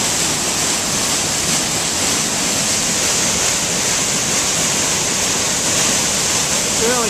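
Cattyman Falls roaring at high flow, a dense, steady wash of falling water that fills the whole stretch without a break.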